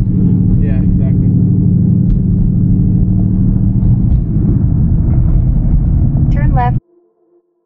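Lamborghini car driving on the road, a steady loud engine rumble and road noise filling the cabin under talk, cutting off abruptly near the end.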